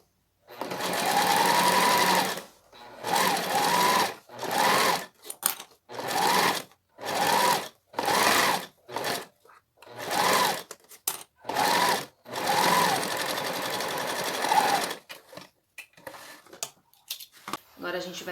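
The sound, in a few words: domestic sewing machine stitching a plastic bag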